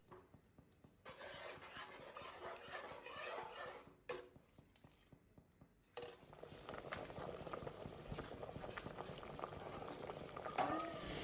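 Salted water boils hard in a pot for Chettinad beef biryani, a close, continuous bubbling rumble broken by two brief pauses, then rolling on strongly with no talk.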